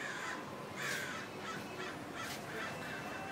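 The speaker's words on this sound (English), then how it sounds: "we have this problem of crows just hanging out and annoying the shit out of us" Several crows caw repeatedly, harsh calls in an uneven series, moderately distant outdoors against a faint background hiss, with no talking.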